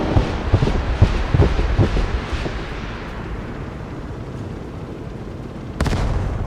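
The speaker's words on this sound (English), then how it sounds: "we're going to strafe them with rockets and guns" Rockets and guns strafe infantry in the Broken Arrow war game, a run of loud rapid bursts and booms over the first two seconds giving way to a steady rumbling roar, with a sharp burst near the end.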